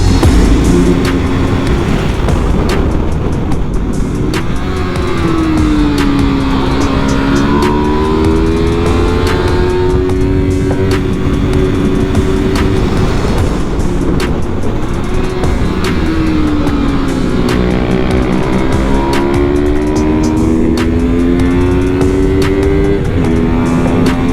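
Racing motorcycles scream past on a track, engines rising and falling in pitch as they fly by, loud and close, one after another.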